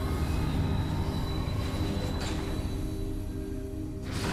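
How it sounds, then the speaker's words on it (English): A train rolls past in the space pirate homeworld of the video game Metroid Prime 3, a loud, steady rumble of rail cars with squealing wheels and a faint hum that eases slightly near the end, with no one speaking. "Did you expect local train service?"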